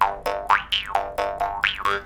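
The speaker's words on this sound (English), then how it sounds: "you can also play muted style where you have the jaw harp against your lips like this" A jaw harp played muted style, pressed against the lips, twangs in about nine quick, rhythmic boing-like plucks with vowel-shaped wah sweeps, close and fairly soft.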